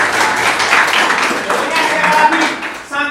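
Students clap in a school classroom, a dense spread of overlapping claps held at a steady level, with voices mixed in and a short voice at the end.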